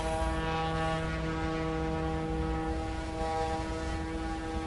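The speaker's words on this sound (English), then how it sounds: "Why does this plane remind me of a toy plane you would get when you were a kid?" A propeller airplane flies in Microsoft Flight Simulator 2024, its engine a steady, droning hum with layered constant tones. It stays loud and unchanging throughout, with no talking.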